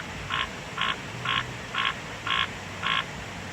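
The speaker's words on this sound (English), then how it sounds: "Those are the snouted tree frogs" A snouted tree frog calls six times in a steady, evenly spaced series of short croaking bursts, fairly close, over a quiet night background in the Gamboa rainforest, Panama.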